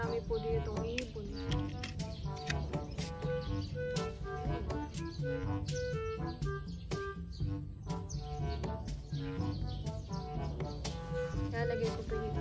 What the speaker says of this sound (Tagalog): Marami po dito itong ibon.